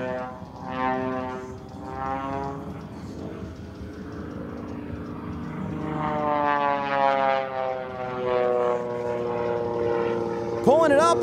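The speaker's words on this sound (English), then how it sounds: "Look at him tumble that big biplane across the skies over Sun and Fun." A large aerobatic biplane at the Sun 'n Fun airshow drones and whines through tumbling manoeuvres, its engine pitch rising and falling continuously under an announcer's commentary over the loudspeakers.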